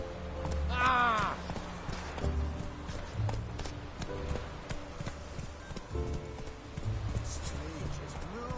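Roach the horse gallops in The Witcher 3, a steady run of clip-clop hoofbeats close by, with a voice calling out over it near the start.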